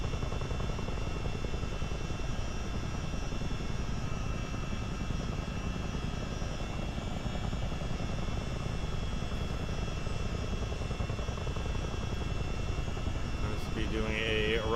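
Simulated CH-47D Chinook helicopter in a multiplayer flight game touring the Great Lakes: a steady, loud rotor and turbine drone fills the clip without a break, with a brief tonal chirp near the end.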